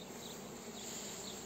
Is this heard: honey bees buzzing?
yes